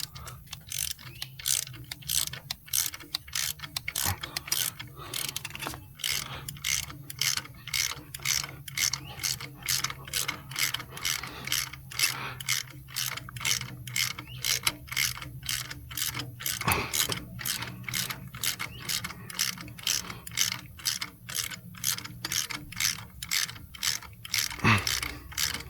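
A ratchet wrench cranks in a steady, rapid series of close, loud clicks while injector cups are replaced on a Ford F250 with the 7.3L engine, with no talking.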